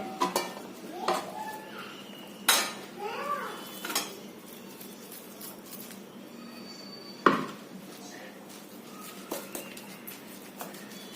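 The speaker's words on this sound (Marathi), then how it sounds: "या तापीमध्ये आपण हे ओतून घ्यायचंय" Quiet scraping and a few sharp metal clinks as a thick coconut burfi mixture is spooned into a greased tray, with soft utensil knocks spaced apart.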